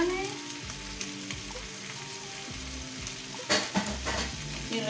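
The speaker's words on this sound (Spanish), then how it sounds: "Ya tenemos nuestro bacon ya con colorcito y le vamos a añadir los" Sliced mushrooms are stirred into browned bacon sizzling in a pan, a steady close frying hiss with scraping stir sounds and a few louder clatters.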